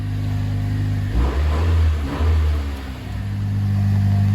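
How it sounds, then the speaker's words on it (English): A Honda Civic FK7 1.5 VTEC Turbo engine idles with a deep steady hum, then revs twice in quick succession, the exhaust swelling and dropping back to a low idle. "it's going to sound like the exhaust is a little bit louder, but there's a bit of a hum off it"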